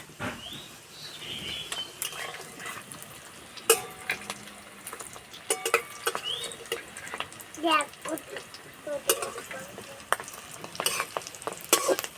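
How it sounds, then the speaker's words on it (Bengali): Fish roe fritters fry in a pan over low heat, giving a steady close sizzle with scattered crackles and stirring clinks throughout, while a person talks over the cooking. "এই ডিমে বড়া ভাজতে বেশি কিন্তু সময় লাগে না খুব তাড়াতাড়ি ভাজা হয়ে যায়"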